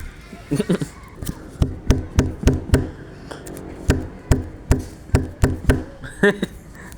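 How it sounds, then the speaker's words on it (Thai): Sharp wooden knocks and taps are struck by hand in a steady musical rhythm, like sound effects made by hand. They are loud and close, with a voice speaking faintly between the beats. "เคาะเป็นดนตรี"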